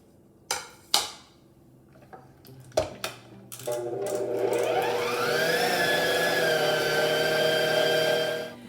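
A few sharp knocks and clatters come first, then an electric mixer spins up and whirs steadily for several seconds while creaming butter for an old-fashioned pound cake, close and fairly loud, before winding down.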